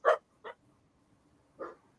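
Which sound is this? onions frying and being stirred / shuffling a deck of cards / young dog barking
young dog barking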